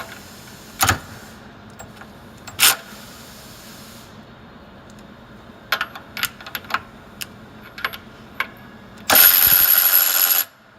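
Snap-on cordless ratchet breaking a stuck bolt free: a couple of short loud bursts early, a run of sharp clicks and ticks, then a sustained loud whirring spin near the end, close and alone.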